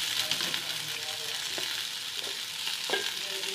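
Chopped onion sautés gently in ghee over a low flame as filling for a chicken vegetable roll. The soft, steady sizzle is broken by a few light stirring scrapes, it stays close and moderately quiet, and no one speaks.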